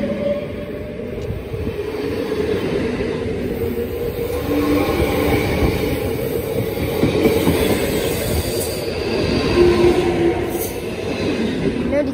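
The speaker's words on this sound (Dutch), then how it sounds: "Ik zit er zo dichtbij dat ik de amper die trein door heb." Train rolling close past a level crossing in Heiloo, a loud, steady rumble of wheels and carriages that holds for the whole stretch, with faint clatter and brief higher squeals riding on top.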